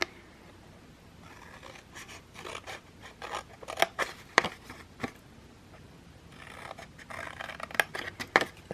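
Scissors snip through greeting-card paper along a scored line in close, crisp bursts. The quick cuts come in two clusters separated by a brief pause, with faint rustling of the paper and no speech.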